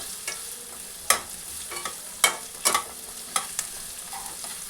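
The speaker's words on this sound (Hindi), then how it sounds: "फिर इसमें डालेंगे 2 तेज पत्ते, इसे भी अच्छी तरह से सौटे कर लेंगे।" Two bay leaves sautéed with onions in a pan, gentle frying sizzle punctuated by several distinct scraping and clattering spoon strokes.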